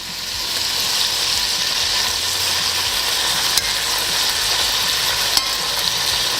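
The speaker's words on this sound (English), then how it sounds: "as the meat browns, you use your tongs to flip it over" Steady broadband sizzling of lamb meat browning in a frying pan, continuous and fairly loud, with a couple of faint clicks from tongs.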